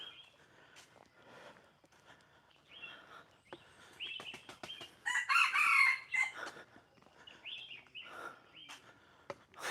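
Chickens on a farm cluck scattered through the scene, with a rooster's loud cock-a-doodle-doo crow in the middle, moderately close amid light outdoor background noise.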